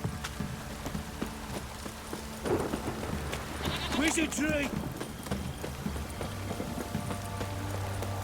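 Horse hooves keep up a steady clip-clop in The Witcher 3 while a voice calls out briefly midway, with some animal-like bleating cries and rainy ambience around the hoofbeats.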